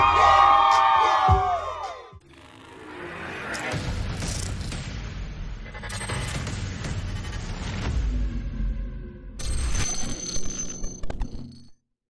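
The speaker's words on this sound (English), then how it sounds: "I want to hear you make some noise" A large crowd at an outdoor DJ gig screams and cheers in sustained swells, with shrill whoops rising above the roar before it fades out.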